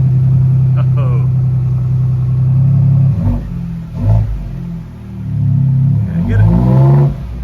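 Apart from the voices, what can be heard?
2023 Ford Bronco Badlands with AWE exhaust revving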